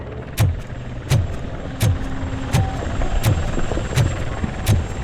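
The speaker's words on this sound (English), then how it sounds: "That's a TV helicopter." A TV news helicopter in the Robocop Rogue City video game, a steady rotor thrum with regular loud beats about every 0.7 seconds, near and continuous, with no talk over it.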